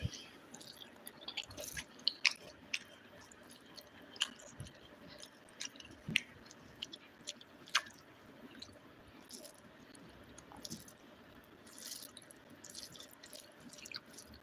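Soft, close-up chewing and wet mouth sounds while someone eats a dry-style roadside-stall chicken curry, with faint smacks and squishy bites scattered across a quiet background.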